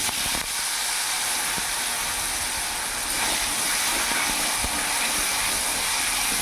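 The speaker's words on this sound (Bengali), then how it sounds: "লাল লাল করে ভেজে নেব" Loud, steady hissing sizzle of diced potatoes frying in hot oil, continuous and close, with occasional faint crackles.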